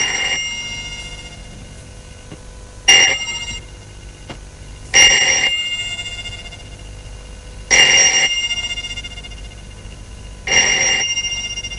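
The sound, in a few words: telephone ringing late at night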